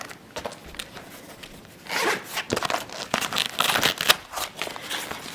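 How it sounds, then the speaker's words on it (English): A zipper on a travel duffel bag that converts to a wheeled backpack is pulled open in several short rasping strokes, close and fairly loud, mixed with fabric rubbing and rustling. "what's really cool about this bag is that if you unzip this"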